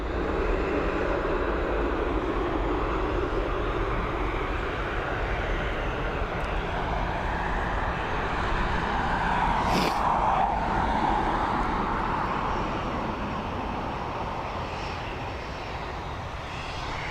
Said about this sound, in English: It's an Airbus A320 heading over to Madrid.